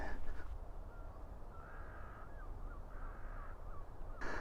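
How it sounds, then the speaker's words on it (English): Crows caw repeatedly at a distance on a beach on France's Cherbourg Peninsula, harsh calls rising and falling over a steady background hiss of wind or surf. "Don't know if you can hear the birds down on the beach."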